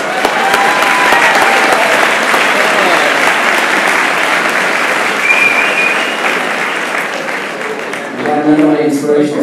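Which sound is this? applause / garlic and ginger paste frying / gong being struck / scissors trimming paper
applause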